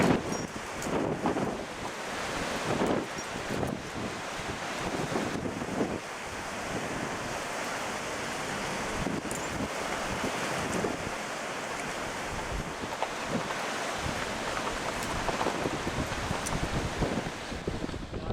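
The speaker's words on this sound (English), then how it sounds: "It's freezing, it's blowing a gale, and it's a whole lot of fun." Gale-force wind at a freezing cliff top in the Blue Mountains on a climbing route, roaring and buffeting the microphone in sustained loud gusts for the whole stretch, with no talk.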